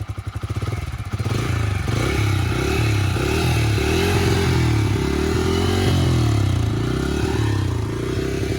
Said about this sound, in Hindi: तो एक बार इसकी आवाज और सुना दो स्टार्ट करके, जो हम देख लें कि क्या स्मूथ इंजन है।